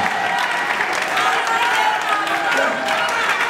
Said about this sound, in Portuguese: Aplaudimos para a glória de Jesus.